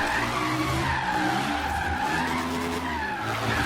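A Reliant Supervan drifts in Forza Horizon 3, with continuous loud tire skidding and squealing over a droning engine, sustained throughout without pause.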